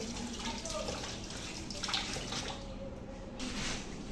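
Hands being rinsed under running tap water, a steady close splashing and trickling that continues throughout without a break, with no voices.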